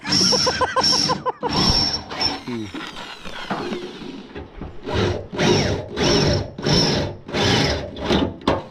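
A power drill whirs in short bursts, winding up and down while fitting a 10-inch subwoofer box in an Isuzu Hi-Lander pickup, with someone talking close by between and over the drilling.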